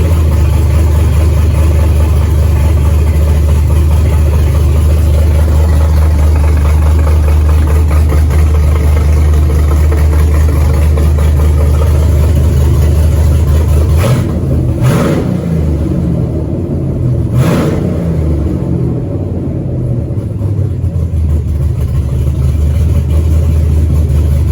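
A project car with open headers and its exhaust removed idles loud and rough, then revs sharply twice in quick blips before settling back to a heavy, rumbling idle close by, with no talk.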